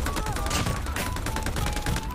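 Rapid bursts of AK117 gunfire in Call of Duty: Mobile Battle Royale crackle in a dense, continuous rattle, with a thin electronic tone running underneath.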